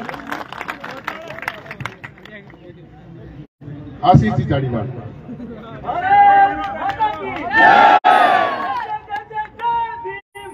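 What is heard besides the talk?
crowd applauding and cheering to honour a guest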